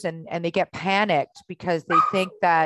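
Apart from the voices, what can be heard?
dog barking in the background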